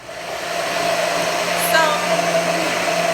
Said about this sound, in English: So I'm gonna stick them in this blender and pray that this little blender will actually make it smooth for us.